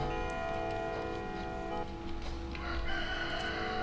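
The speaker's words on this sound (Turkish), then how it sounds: "Bak bak ötüyor horoz" A rooster crows faintly at a distance against a steady background hum and light ticking.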